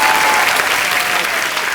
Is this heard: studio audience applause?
yes